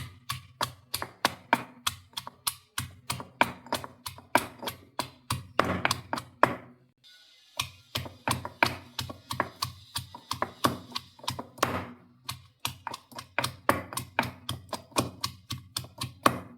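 Shallots are pounded in a stone mortar with a steady series of sharp, close thuds at a brisk rhythm, broken by one short pause midway.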